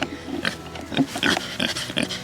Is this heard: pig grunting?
yes